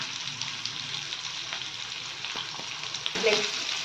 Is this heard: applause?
no